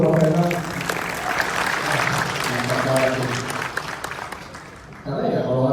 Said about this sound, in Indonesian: Boleh dong tepuk tangan dulu buat Prof Renal